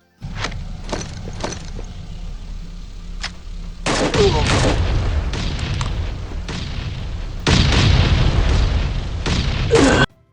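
UMP-45 gunfire in a battle royale shooter game, starting with a few isolated sharp shots, then long loud stretches of rapid automatic fire and booming bursts, close and heavy, cutting off abruptly at the end.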